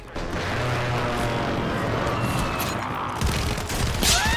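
A Kastov LSW light machine gun fires in long, loud sustained bursts in a first-person shooter, rattling close and continuous with heavy low booms behind it.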